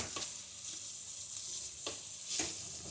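Fenugreek leaves (methi) frying with tomato in a pan give a soft steady sizzle, with a few brief scraping stirs of a spoon against the pan.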